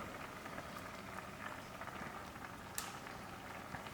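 Rice simmering in a pot for creamy sweet rice with soaked sago, a steady close bubbling and popping texture with small crackles and no one talking.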